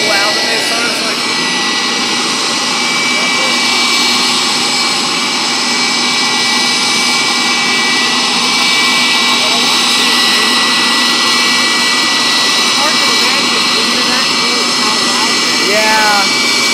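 A JT8D jet engine runs on a test stand, a loud sustained roar with a steady high whine and shrill tones heard from nearby, unbroken throughout.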